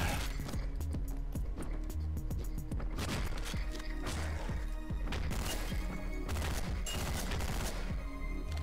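Rapid bursts of gunfire from the top-down shooter Hotline Miami, sharp overlapping shots and crashes firing in quick clusters, loud and close throughout with brief gaps between volleys.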